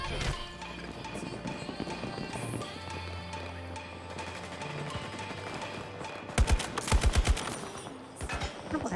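Game gunfire in a multiplayer shooter battle, with scattered shots under ongoing game noise and a loud burst of rapid shots near the end.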